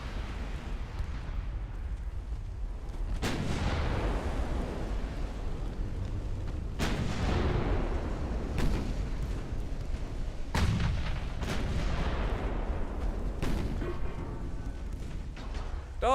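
Naval artillery salvos in the warship game Ultimate Admiral Dreadnoughts: several heavy booming shots spaced a few seconds apart, each with a rolling decay over a low rumbling background.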